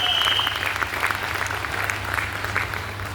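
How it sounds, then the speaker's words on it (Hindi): Audience applause at a Vestige business event in Mumbai, a dense, steady burst of many hands clapping that fills the whole stretch at a fairly loud level. "एक बार जोरदार तालियां हो जाए वेस्टीज के लिए।"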